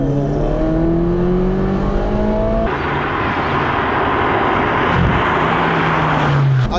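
A Ferrari 458 Speciale Aperta's V8 engine revs hard and loud throughout, with rising gear-by-gear pitch sweeps and a shift partway through, no voices over it.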